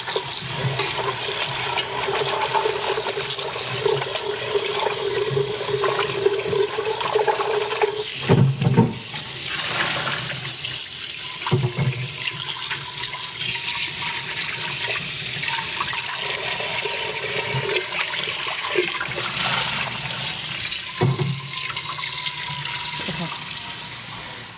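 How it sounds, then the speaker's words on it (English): Hot tap water runs steadily while a pot is washed out in a kitchen sink, a loud continuous rush broken by a few knocks and shifts as the pot is handled. "Now I'm just washing out this pot."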